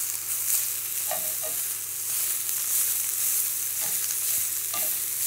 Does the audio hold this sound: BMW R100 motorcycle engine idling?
no